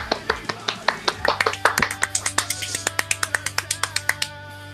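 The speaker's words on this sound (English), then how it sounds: "We do the clapping now." Podcast hosts clap and snap along together at the end of an episode in a quick series of sharp, close, evenly spaced claps, with some scattered claps mixed in.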